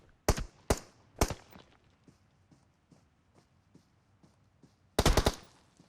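Gunfire from the mobile game PUBG Mobile comes in sharp, loud bursts: a few single shots early, then a rapid cluster near the end, with faint soft steps ticking steadily in between.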